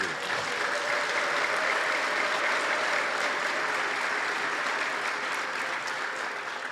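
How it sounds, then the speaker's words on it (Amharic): A church congregation claps together in sustained, even applause that fills the room at a steady level from start to finish, with no voices rising above it. "ለእግዚአብሔር ጭብጨባ መስጠት እንችላለን።"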